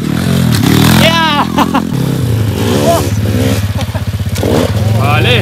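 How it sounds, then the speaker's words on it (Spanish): Motocross motorcycle ridden around a dirt circuit, its engine droning and revving hard throughout, close and loud, with excited voices shouting over it. "Oficialmente, Isma está estrenando mi moto por aquí, por el circuito."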